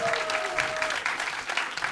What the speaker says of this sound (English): I want to hear a huge round of applause for them